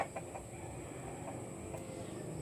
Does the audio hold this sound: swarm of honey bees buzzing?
no